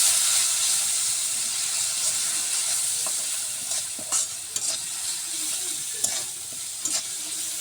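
Prawns frying in a pan with turmeric powder and salt give a continuous bright sizzle and hiss, broken by scattered clicks and scrapes of stirring, close and fairly loud throughout.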